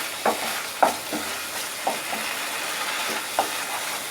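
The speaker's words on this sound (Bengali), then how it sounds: "তো দেখো এটা আমি কিন্তু ক্রমাগত নেড়ে যাচ্ছি।" A spoon stirs a tomato and poppy seed curry in a pan, scraping in a few sharp, irregular strokes over a soft, steady sizzle of oil.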